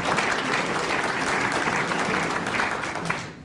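Dense, sustained applause from an audience at a climate change lecture in Australia fills the whole moment, loud and even before tapering off at the end.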